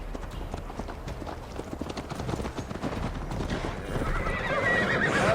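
Horse hooves clip-clop steadily on a long ride in Assassin's Creed Valhalla, with neighing and whinnying heard close by, a fairly loud, continuous gait that swells toward the end.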